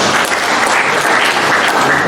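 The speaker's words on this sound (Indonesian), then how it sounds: "Tepuk tangan untuk pansus truk." Dense, steady applause from an audience at an official government gathering fills the whole stretch, with no pauses.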